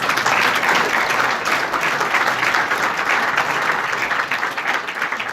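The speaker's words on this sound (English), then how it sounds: "So can we give this panel one quick round of applause?" Audience applause at a Franklin County Chamber of Commerce breakfast panel, a dense sustained round of clapping from a room of people lasting several seconds and tapering slightly at the end.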